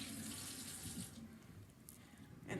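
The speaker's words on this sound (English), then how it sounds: "Just gonna rinse this off." Rice is rinsed under a running tap, making a quiet, steady hiss of flowing water with slight splashy changes as the stream shifts.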